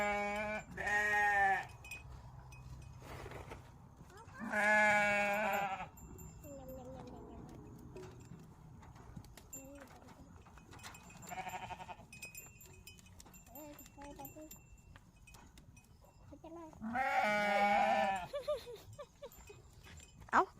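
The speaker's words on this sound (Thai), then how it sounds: "แพะน่าจะกินใบตำลึงด้วยนะ" Goats bleat loudly and repeatedly while eating ivy gourd leaves, several long wavering calls close by separated by quieter stretches of munching and rustling.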